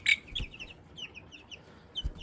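Young chicks in a brooder cheep and peep in short high chirps scattered through the moment, close and fairly soft, with a couple of low bumps of movement and no talking.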